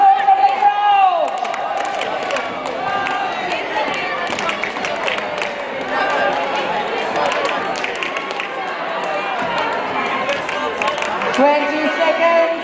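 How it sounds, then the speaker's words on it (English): A crowd at a FIRST LEGO League robotics competition buzzes with sustained cheering and chatter, a dense, continuous roar of many voices filling the venue, with a loud announcer speaking over it. "Let's hear some support from the crowd."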